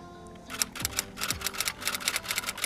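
Rapid taps on a phone's on-screen keyboard, a quick steady run of clicky ticks close by, fairly quiet, with no talking.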